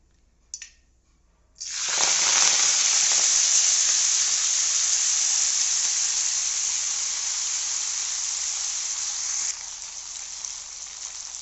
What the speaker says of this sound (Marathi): मोहरी छान तडतडली आहे मी याच्यामध्ये मेथी घालते